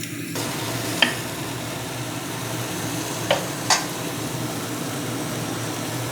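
Cauliflower and potatoes fry with cumin powder, turmeric and salt in a pan, giving a steady sizzle under a low background hum, with a few sharp clinks of the stirring utensil against the pan.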